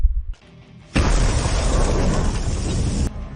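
A gunpowder explosion sound effect: a brief lead-in, then a loud, dense roaring blast that holds for about two seconds and stops abruptly.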